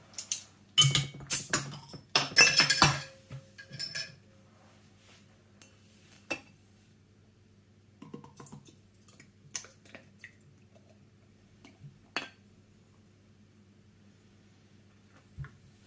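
A bottled homebrew dark English mild beer is poured quickly into a glass in a few splashy bursts, then faint fizzing and occasional small clinks and drips follow in a quiet room.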